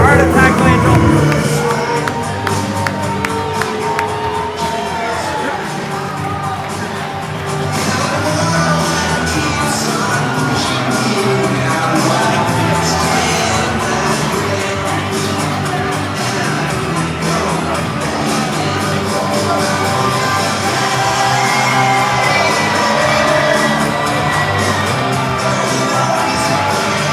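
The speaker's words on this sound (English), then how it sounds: "Soaking in the adulation of this crowd." A live wrestling arena crowd roars and shouts without letup, a dense wash of cheering voices with occasional whoops, and commentators talk over it.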